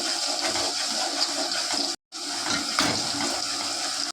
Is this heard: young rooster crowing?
no